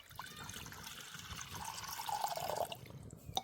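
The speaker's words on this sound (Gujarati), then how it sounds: "એમાં નાખી દઈશું પાણી" Water pouring into a cooking pot on a lit stove, ready for boiling green chickpeas; a steady trickling splash that builds in the middle and ends with a brief clink, with no talking.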